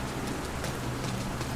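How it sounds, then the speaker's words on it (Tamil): Rain falls steadily in The Last of Us Part II video game, a dense, even patter on surfaces that is moderately loud and heard alone without talk. "ஓ ஊர் ஃபுல்லாக மழை பேஞ்சிக்கிட்டே இருக்கு இந்த ஏரியாவில்."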